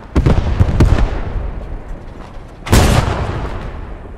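Two heavy booming shots from an 8.8 cm Flak 36 anti-aircraft gun in the video game Post Scriptum, loud and close, each blast followed by a rumbling decay.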